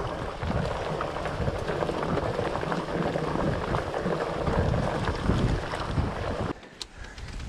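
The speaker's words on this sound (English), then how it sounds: "Must be a northerly blowing." Warm northerly wind blowing across a mountain bike track through tree ferns near Montezuma Falls, a loud, constant buffeting roar against the microphone that drops away abruptly near the end.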